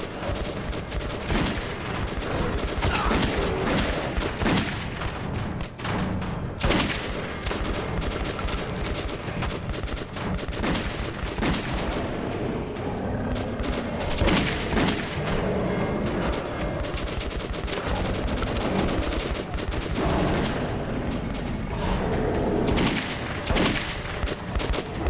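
Rapid bursts of gunfire from weapons in the Metro video game crack loudly and repeatedly over about twenty-five seconds, dense volleys with short gaps, and no one talks over them.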